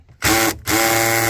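Power drill working a tight 10mm bolt inside a Lexus ES dashboard, with two close, loud whirring bursts separated by a brief pause.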